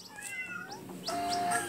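Cats meow in a video game, several overlapping cartoonish mews with rising and falling pitch in quick succession, close and clear, followed by a louder stretch of mewing near the end.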